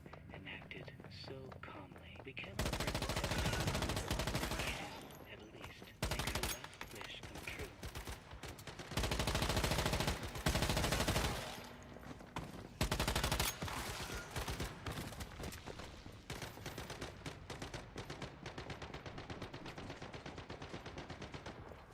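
Video game gunfire from a malfunctioning gun, heard as long bursts of rapid automatic fire that start and stop repeatedly, loud and dense, with quieter stretches of faint crackling and background noise between bursts.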